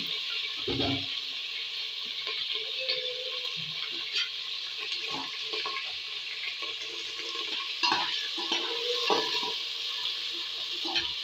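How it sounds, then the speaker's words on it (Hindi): Onions frying in a pan for a chicken curry with gravy, a steady close sizzle with irregular scraping and clinking of a spoon stirring throughout, no talking. "प्याज को भी मैं थोड़ा ब्राउन होने दूंगा"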